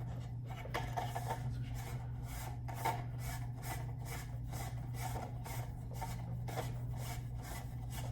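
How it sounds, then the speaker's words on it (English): A huge light bulb is screwed into a softbox socket, making close, rhythmic scraping and grinding glass-on-metal rubs repeated in twists about every half second over a steady low hum. "Let's go ahead and now screw in our huge light bulb."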